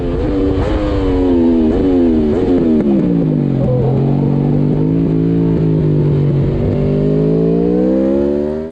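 An Aprilia RSV4 1100 sportbike decelerates on engine braking through a corner with the rear tyre sliding, its loud, close engine dropping steadily in pitch from a high rev with slight stutters, and no voices.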